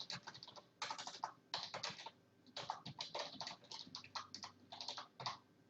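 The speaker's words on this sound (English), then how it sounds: "just going to delete that and then type in your headline" Rapid typing on a computer keyboard, close and clear, comes in quick bursts of keystrokes with short pauses between them, with no talking.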